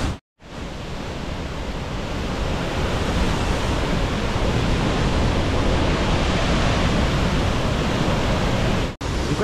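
Waterfalls beside a narrow path near Sumela Monastery, a loud, steady, dense rushing roar of falling water that continues unbroken, with no one talking.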